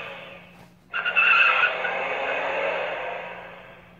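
Car tire screech sound effect played by a Dash robot, a sharp squeal starting about a second in and fading slowly over several seconds, heard alone with a steady low hum underneath.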